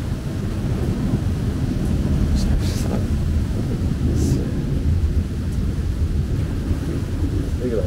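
A heavy storm wind roars steadily and loudly during a thunderstorm front while on patrol outdoors, a constant dense rumble with a few gusty swells.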